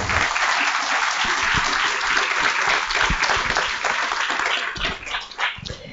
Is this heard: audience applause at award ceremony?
yes